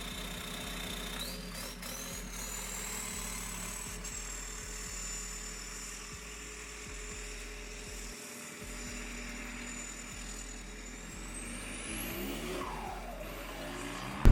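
A Mk1 VW Caddy with a swapped PD diesel engine drives along, a steady loud engine drone with low rumble and road noise throughout, a brief dip midway, no talking.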